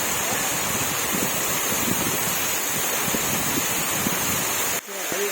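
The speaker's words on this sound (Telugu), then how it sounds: "వాటర్ ఫాల్స్ అండి సూపర్ ఎక్సలెంట్ గా ఉంది చాలా పైన జలపాతం అయితే చాలా ఎక్సలెంట్ గా ఉంది" A waterfall at the Rampa tribal site near Rampachodavaram roars in a constant broadband rush, close and loud, with wind buffeting the microphone before the sound abruptly drops away near the end.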